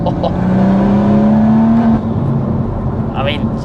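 A manual Stage 3 BMW M140i engine revs hard up to a steady high drone, then drops back after a shift. The note is loud and close, with road and wind noise underneath and a brief voice near the end.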